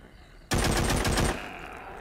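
Rapid burst of automatic gunfire in the zombie shooter game The Walking Zombie 2, a loud close rattle of shots lasting under a second before dropping back to quieter game background.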